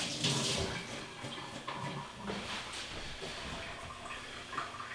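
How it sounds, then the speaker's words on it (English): Hands are washed under running kitchen water, with a steady close splash and trickle over the whole stretch and small shifts as the hands move through the stream. "Let's wash my hands."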